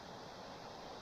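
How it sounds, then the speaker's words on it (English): A waterfall beside a backcountry campsite in Yellowstone National Park produces a steady, faint rushing hiss, continuous and even, with no voices or other sounds. "Sounds like this campsite has a private waterfall."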